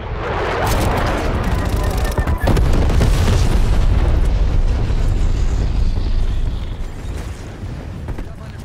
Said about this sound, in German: Feindlicher Marschflugkörperstart registriert